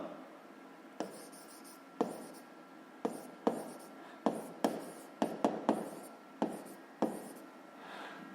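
A pen scratches across paper while physics working is written out, a soft continuous scrawl broken by a dozen or so sharp taps as the pen lands, close and quiet with no speech.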